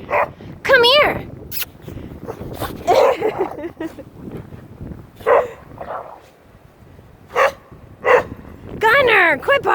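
Gunner the dog barks and yips in sharp, separate bursts spread across the moment, close by in a snowy outdoor setting, with people talking in between.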